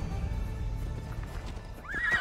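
A horse in the video game Assassin's Creed Odyssey whinnies near the end, after low rumbling and hoofbeats, with a rising, shrill neigh standing out clearly.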